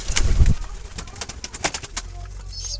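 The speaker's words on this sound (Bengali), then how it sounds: "ওটা একটা কালো জালি কবুতর" Black Jalali pigeon kept in a basket coop, cooing in soft repeated low calls near the listener, with a bump or flutter at the start.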